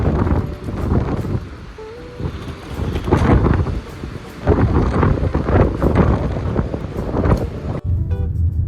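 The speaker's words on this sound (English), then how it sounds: "But when I stepped out, it was very windy." Strong gusty wind outside Lyon airport, loud buffeting rumbles battering the microphone in surging waves throughout, with a brief muffled lull near the end.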